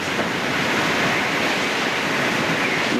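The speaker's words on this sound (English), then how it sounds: "I hear the bottom of the floor pounding when them waves hit" Hurricane Katrina storm waves pounding against the floor of a house, heard as a loud, continuous roar of surf and wind with no distinct separate impacts.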